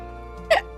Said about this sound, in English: Oh, hello, random hiccup.